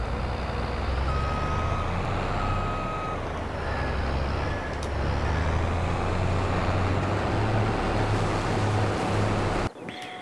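Tractor engine in Farming Simulator 22 running with a loud, steady low rumble and drone that continues throughout, then cuts off sharply near the end, with no talking.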